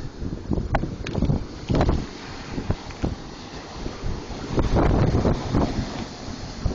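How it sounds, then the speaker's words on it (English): Hurricane Irene at Montauk sends strong wind gusting across the microphone while loud surf pounds and rushes close by in heavy, irregular surges. "Wind has really picked up in the last 30 minutes."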